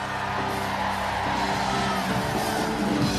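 A church congregation shouts and cries out together, a dense, continuous roar of many voices filling the hall, loud and close throughout.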